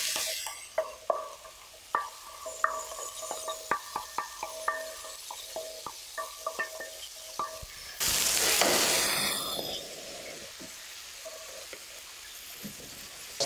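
Onions and beef frying in a pan, a soft steady sizzle under a run of sharp spoon taps and scrapes against the metal, then a sudden loud hissing surge as the pan flares, with no talking.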